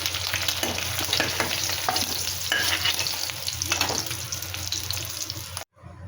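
Whole cumin and spice paste frying in a wok, a loud continuous sizzle with spatula scrapes and stirring clatter close up, cutting off abruptly near the end; no voices.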